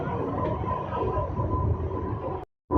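A Kalka-Howrah Netaji Express train passing close by, its steady loud rumble and rail clatter carrying a faint tonal whine before the sound cuts off abruptly near the end and returns briefly.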